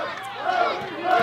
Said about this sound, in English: The crowd chants with Jake Dirden